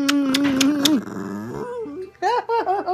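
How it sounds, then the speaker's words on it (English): A dog growls up close, with whining, whimpering tones mixed in. The growl is broken up by short vocal sounds. "Still growling, I see."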